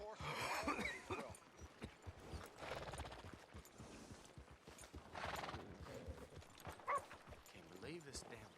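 Horse hooves clip-clop in a steady rhythm in Red Dead Redemption 2, heard close and moderately loud under overlapping conversation, with a short whinny and a dog bark among the hoofbeats.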